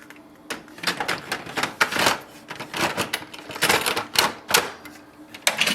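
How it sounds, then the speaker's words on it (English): A toner cartridge is fitted back into a Brother DCP-L2640dw laser printer, giving a close series of sharp plastic clicks, knocks and rattles in an uneven rhythm. "then you can place the ink toner back"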